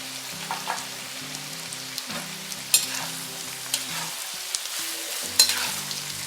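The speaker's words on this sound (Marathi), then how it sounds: "आता हा गॅस स्लो मिडियम करत आपण तळून घ्यायचं आहे" Sliced onions deep fry in oil over a slow-medium gas flame, giving a continuous close sizzle and crackle with occasional sharper pops and stirring scrapes.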